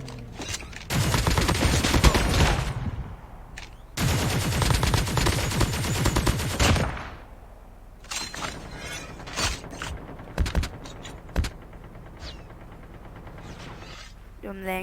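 Rapid bursts of automatic gunfire in Call of Duty Mobile Battle Royale, including a Fennec submachine gun, rattle loudly in long sustained volleys, then give way to scattered single shots and mechanical clicks.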